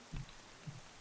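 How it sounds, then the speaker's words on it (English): Steady, faint rain falls in The Legend of Zelda: The Wind Waker, a soft continuous hiss with two low muffled thumps over it and no voices. "It is raining."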